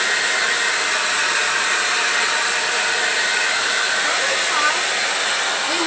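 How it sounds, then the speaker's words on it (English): Blow dryer on its heat setting aimed at wet paint, a continuous close hissing airflow with a steady motor whine, loud and unbroken throughout. "If you have your blow dryer on heat, it will actually dry the paint only on the surface"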